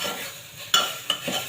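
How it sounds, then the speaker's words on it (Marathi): A spoon stirs grated beetroot inside a pressure cooker for beetroot halva, giving soft close scraping with two sharp metallic clinks against the pot, no voices. "आता बीटाचा किस आपण कुकरमध्ये टाकलेलं आहे आणि ते थोडंसं हलवून घेऊया."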